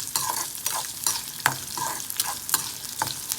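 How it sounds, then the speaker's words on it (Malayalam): Onions and horse gram sauté in a pan with a steady sizzle, punctuated by regular scraping strokes of a spatula stirring, close and moderately loud, no one speaking. "നന്നായിട്ട് ഇതൊന്ന് വഴറ്റി വരട്ടെ."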